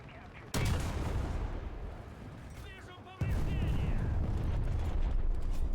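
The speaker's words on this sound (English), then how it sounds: "Oh, that was a big ass bomb." A huge bomb blast in an online combat video game, a sudden broadband boom that stays loud and rumbling for seconds, following an earlier heavy hit, with a voice talking faintly underneath.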